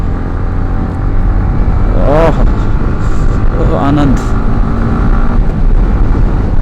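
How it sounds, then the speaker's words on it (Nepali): A motorcycle is ridden along a highway, its engine and wind rumble filling the clip steadily and loudly while someone talks over it. "I am driving this bike after 3 to 4 days"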